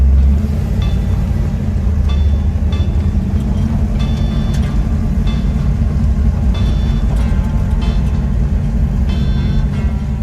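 A 1959 Chevrolet Bel Air fitted with an air ride suspension kit rolls down the road on its first drive, a loud, steady low engine and road rumble heard from inside the car.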